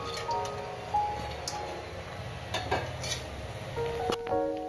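A spoon stirs semolina upma with sugar, peas and nuts in a pan, giving quiet scraping and light metallic clinks against the pan over a faint sizzle, without talk.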